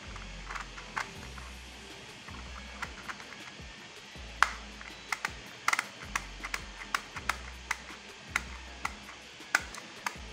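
Cogs of a Shengshou magnetic clock puzzle turning in close-up, giving off a quick series of small, crisp clicks and ticks in uneven bursts, with no talking.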